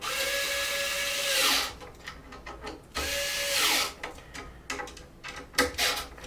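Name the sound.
screwdriver tightening nuts on body mounts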